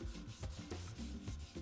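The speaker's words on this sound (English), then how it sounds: "Like a little spongy sanding pad. We're gonna throw some 220 on here." Hand sanding with a spongy pad and 220 grit sandpaper during dent repair and primer prep, close and quiet rhythmic back-and-forth rasping strokes, about seven passes in quick succession.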